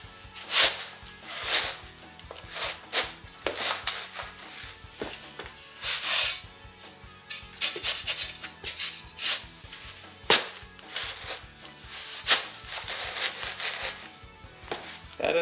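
A rusty garden shovel is scrubbed and worked in a bucket of sand and oil, giving repeated gritty rubbing and scraping strokes with irregular sharp bursts, close and fairly loud, with no talking.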